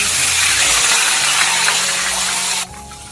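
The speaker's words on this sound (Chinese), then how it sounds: "把鸭放下来，稍稍煎一下表皮" Loud, steady sizzling hiss of food frying in hot oil, which drops off abruptly near the end.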